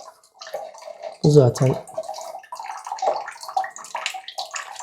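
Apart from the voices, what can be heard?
water flowing from a tube or tap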